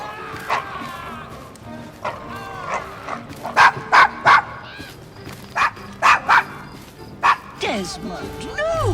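A pet dog barking in the video game Assassin's Creed Syndicate, set in Victorian London, with repeated sharp yaps and whimpers in short bursts while people talk over them.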